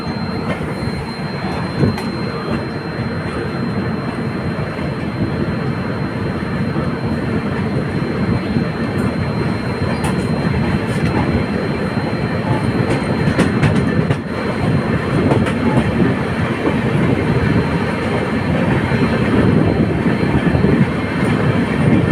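The Sharsha Humsafar Express rolls on again after waiting at a signal, its wheels and carriages producing a loud, continuous rumble with steady rattling and faint squeals, close and unbroken throughout with no talk.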